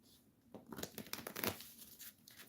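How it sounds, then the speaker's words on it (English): A deck of tarot cards being shuffled close up, a brief burst of riffling, flicking card noise rising in the middle and trailing off, with no voice. "One more shuffle."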